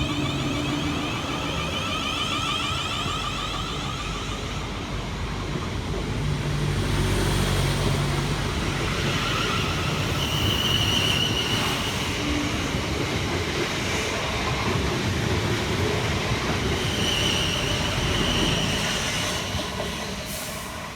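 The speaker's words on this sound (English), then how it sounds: "kicking us off will be 450015 and 450032, working the 1302 South Western Railway service from London Waterloo through to Reading" A pair of South Western Railway Class 450 electric units, 450015 and 450032, roll into a station on the line to Reading, a steady rumbling wheel and motor roar with squeals and swelling passes, close and continuous.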